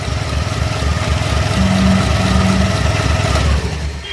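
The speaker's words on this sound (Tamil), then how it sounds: "ஆக்சிலேட்டர் கேபிளை கொஞ்சம் ரிவர்ஸ் பண்ணு. வண்டி ஸ்டார்ட் ஆகிடுச்சு." A scooter engine runs steadily just after starting, a close, continuous low idle with a slight drone and no voices.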